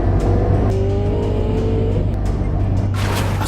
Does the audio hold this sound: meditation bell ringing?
no